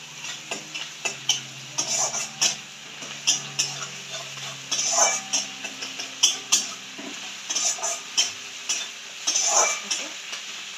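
Spices and grated ginger are stirred in a pan for a fish curry, with soft sizzling and repeated scraping clinks of a spoon against the pan in an uneven rhythm, close by.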